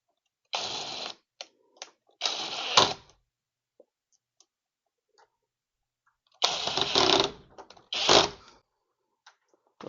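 Several bursts of rattling, scraping handling noise as an electronic deadbolt lock is fastened to a door with screws, separated by quiet gaps with faint clicks.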